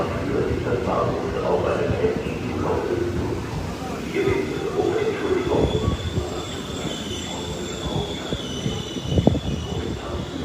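A passing train rumbles and clatters, its wheels squealing on the rails in a continuous, close roar, with voices talking underneath.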